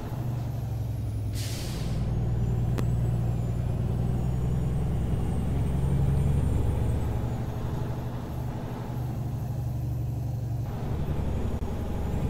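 Truck air brakes hiss in American Truck Simulator, with a bright burst early on over a steady low diesel engine rumble and road drone inside the cab; no voices.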